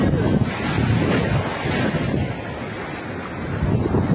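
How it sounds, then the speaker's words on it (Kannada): Ocean waves wash continuously onto a beach in the evening, a loud broadband roar of surf mixed with heavy wind buffeting the microphone, with no voices. "ನಾನಿವತ್ತು ಬೀಚ್ಗೆ ಬಂದಿದ್ದೀನಿ."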